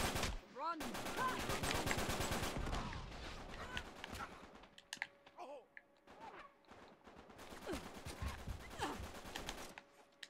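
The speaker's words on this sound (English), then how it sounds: "I'm getting shot from the back." Video game gunfire in Uncharted 3, rapid bursts of automatic shots in dense volleys with pauses, under excited voices of players talking over it.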